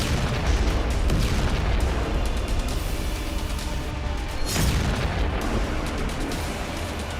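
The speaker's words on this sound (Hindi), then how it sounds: "Ακούγεται τις εκρήξεις, μια πάρα πολύ μεγάλη επίθεση εκ μέρους της Ρωσίας." Explosions from a large Russian attack, heavy booming blasts and rumbling over a continuous dense noisy background, with a strong burst near the middle.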